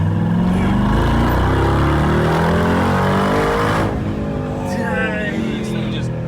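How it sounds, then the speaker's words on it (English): A 2022 Mercedes G63 G Wagon engine pulls hard under acceleration, a loud, close rising roar as the turbos spool up, then easing off to a lower drone; voices talk over it. "When the turbos spool up, this thing just goes."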